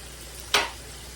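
Chopped onion hits hot butter in a pan, giving one sudden hissing burst that fades over a fraction of a second against a steady background sizzle.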